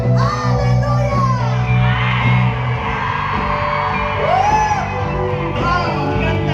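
A congregation at SM Sky Dome in Quezon City shouts Hallelujah loudly, a big sustained crowd roar of voices and whoops filling the hall throughout.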